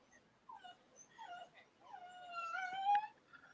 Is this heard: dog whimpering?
yes